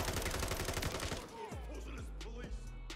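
Rapid gunfire from an FSS Hurricane SMG set to single fire in Modern Warfare 3, a fast close stream of shots for over a second, then quieter pops and clatter with a falling sweep as the burst ends.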